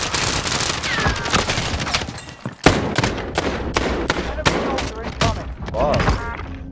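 Rapid bursts of gunfire from a Call of Duty Modern Warfare battle, with repeated sharp shots and short volleys packed close together, loud and near, and voices talking over parts of the firefight.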